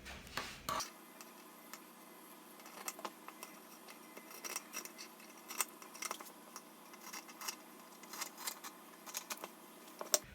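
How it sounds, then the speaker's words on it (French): Scissors cut through fabric for a face mask, a quiet series of short irregular snips and crisp blade clicks spread over several seconds, close but faint, with no talking. "je coupe le tissu"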